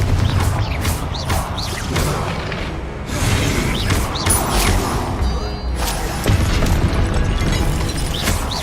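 Confringo spell blasts in Hogwarts Legacy, several loud booming explosions and crashes in succession, close and heavy, with rumbling between impacts and no speech.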